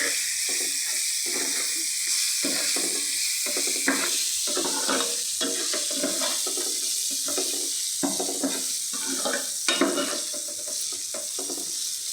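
Red chili powder fries in a pan for cabbage fried rice: a continuous sizzling hiss with repeated rhythmic stirring scrapes of a spoon throughout.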